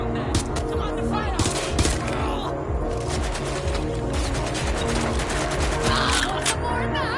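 Rapid gunfire bursts in the video game Watch Dogs Legion, dense and continuous over a busy game soundscape with music, a voice speaking intermittently alongside.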